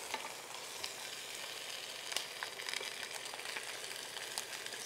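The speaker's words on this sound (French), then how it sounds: "On va prendre le temps de tourner notre viande." Meat for a stew sizzles in a pan while it is turned with tongs, a faint, even hiss with small scattered clicks and crackles over it.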